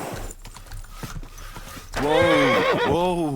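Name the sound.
horse neighing in the video game Kingdom Come Deliverance 2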